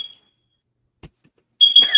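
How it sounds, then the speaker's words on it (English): A smoke detector emits short, piercing high-pitched beeps, one brief chirp at the start and a louder cluster near the end, separated by near-silence with a faint thump in between. "Whose smoke detector? Is that mine?"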